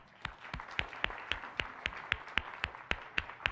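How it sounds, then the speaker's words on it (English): A small audience at a science cafe gives a round of applause for the speaker, heard as a slow, steady series of about a dozen distinct, evenly spaced claps, fairly faint and without talk. "Let's give her a round of applause."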